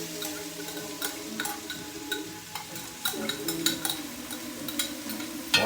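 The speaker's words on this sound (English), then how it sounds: "We're gonna come back and saute, get our onions real translucent and real caramelized." Large onion sautéing in a pan, stirred and scraped across the bottom with a soft steady sizzle, occasional utensil ticks and clinks, and faint background talk.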